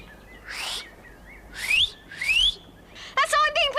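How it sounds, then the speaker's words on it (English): A person whistles a danger signal: several short rising calls, then a quick warbling trill, loud and close against a quiet background. "give the danger whistle"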